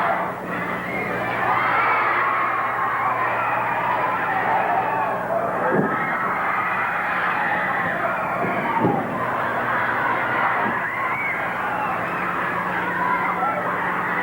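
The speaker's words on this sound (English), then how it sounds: "The crowd counting him out." Arena crowd noise at a 1980 Portland tag-team wrestling match, a steady dense roar of many voices counting a wrestler out, with a couple of sharp impacts breaking through the continuous din.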